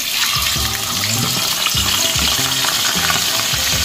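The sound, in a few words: fish frying in hot oil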